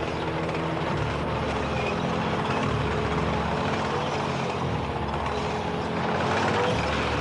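A Leopard 2 main battle tank with a 1,500-horsepower engine drives at speed, giving off a steady, loud mechanical rumble and clatter that holds unbroken from start to end.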